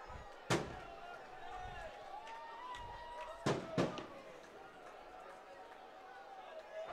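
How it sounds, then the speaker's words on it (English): Fireworks go off over a ballpark during the Riverwalk Festival at a minor-league baseball game, with a few sharp, fairly distant bangs spaced seconds apart over crowd murmur and a commentator's voice. "And there starts the fireworks for the Riverwalk Festival."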